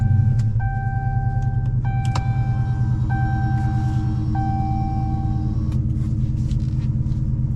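A Dodge Charger SRT Hellcat Widebody V8 engine rumbles steadily at idle after starting, close by, with a few faint high chimes sounding over the low drone.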